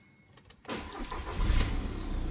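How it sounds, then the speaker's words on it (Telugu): Volkswagen Polo Highline Plus diesel from 2017 cranks briefly and fires up, then settles into a steady, close diesel idle that stays loud through the end. "అండ్ అలానే ఒకసారి ఇంజన్ కూడా స్టార్ట్ చేద్దామండి."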